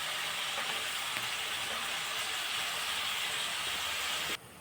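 Garlic hits hot oil and sizzles in a loud, steady, close hiss that holds evenly for several seconds before dropping away abruptly near the end.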